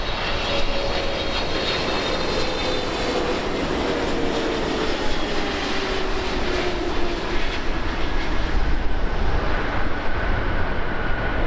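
Dynasty 006 Heavy, a widebody airliner, lands on runway 24 right at Los Angeles with a loud, unbroken jet roar and a slowly falling turbine whine that fills the whole stretch.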